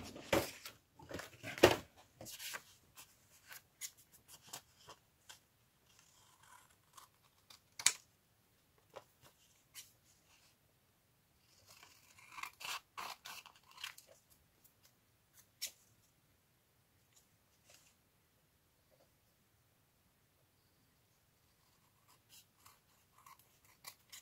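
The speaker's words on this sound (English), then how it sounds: "These are my fabric scissors." Fabric scissors snip in short, scattered bursts of cutting with quiet pauses between, close and faint against a silent room.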